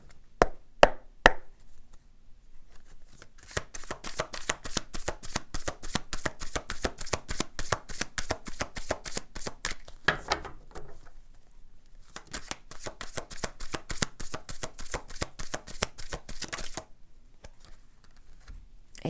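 A deck of tarot cards is riffled and cut close by, a long run of rapid crisp flicks and snaps in bursts, pausing briefly midway before another quick flurry, with no talk.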